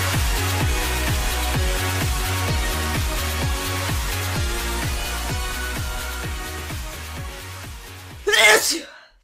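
A single loud sneeze bursts out near the end, following a steady rhythmic mechanical pulsing that fills the background throughout.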